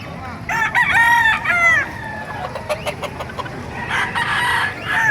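Several roosters crow in overlapping calls, loud and close, at a poultry market in Bocaue, Bulacan, Philippines, amid a busy background of clucking and faint voices.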